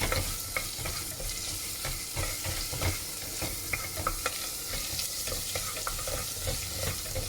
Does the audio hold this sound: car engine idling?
no